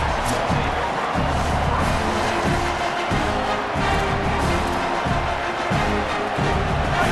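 Stadium crowd noise in a college football video game, a broad steady roar with rhythmic low pulses, like a stadium band or chant, running beneath it.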